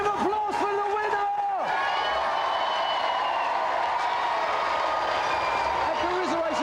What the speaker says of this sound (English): Big round of applause for the winner!